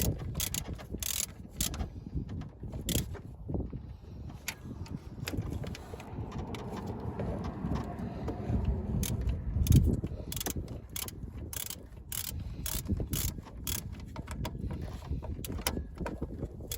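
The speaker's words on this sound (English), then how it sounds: "So I'm gonna get my 10. And then we can tighten down the AC lines." Repeated ratchet clicks from a 10mm ratchet tightening the AC line fittings on a Honda Accord during a K24 engine swap, a steady run of close mechanical ticks and clanks in a garage with light handling noise.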